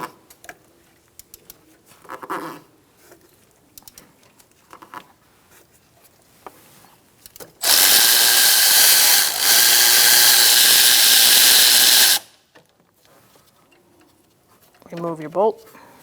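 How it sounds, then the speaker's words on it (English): A 15mm socket on a power tool whirs loudly for about four seconds, removing a bolt from a 2005-2010 Chrysler 300 5.7L V8 during alternator work, with someone talking and faint clinks before and after. "Using a 15mm socket, I'm going to take out this bolt."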